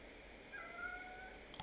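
A cat gives a single drawn-out meow, fairly faint and close, over quiet room background, followed by a brief soft noise at the very end.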